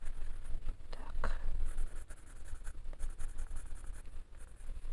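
Colored pencils scratching and shading across the paper of a Kerby Rosanes coloring book, a close, steady soft rasp of short strokes with no voices.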